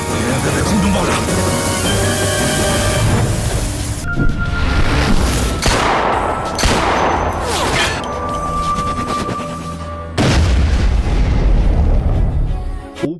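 Explosions in a dramatic tomb-adventure series scene boom and crash loudly in bursts amid a dense, chaotic battle soundtrack, with voices shouting in places.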